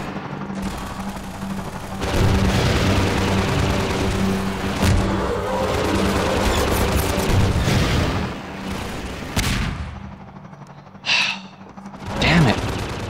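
Rapid gunfire and booming shots from the Half-Life 2 video game, loud and sustained through most of the stretch with bursts and pauses, a voice speaking over the game action.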